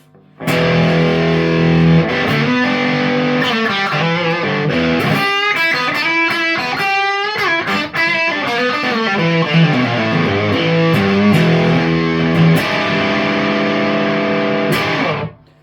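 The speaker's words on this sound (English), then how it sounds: "And then the maximum, we get heavy distortion, which I think speaks for itself." An electric guitar runs through an Artec QDD distortion pedal set to maximum, producing heavy, saturated distortion as a played riff of sustained chords and quicker picked notes rings loud and continuous, then stops abruptly.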